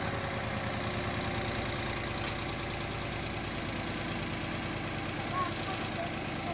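A Daihatsu Ayla 1.0 car engine runs at a steady idle after starting, a close, continuous low rumble with even mechanical ticking throughout, without talk.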